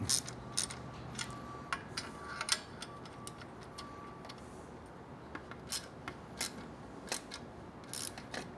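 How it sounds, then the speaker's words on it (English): A 12 mm universal socket wrench tightens the exhaust pipe nuts of drag pipes on an air-cooled Triumph Bonneville, giving quiet, close ratcheting clicks in short irregular bursts over a faint background. "So now we're going to alternately tighten these 2 nuts"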